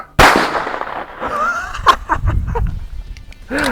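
A Landor Arms bullpup 12 gauge semi-auto shotgun fires one loud, sharp blast close by at the very start, followed by rustling, a faint voice and a second, softer pop near the end.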